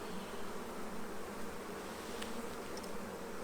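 Honeybees buzz in a full hive, a soft, dense and steady drone heard close up and alone, with a couple of faint clicks near the end.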